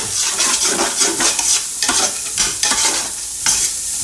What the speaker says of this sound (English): you just want to cook this until the onions go translucent